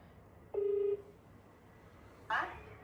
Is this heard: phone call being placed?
yes